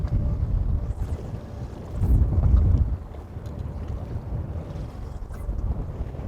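Gusty wind buffets a fishing boat out on the water, a loud roaring rush that swells for a moment and then settles into a steadier blow, with no voices.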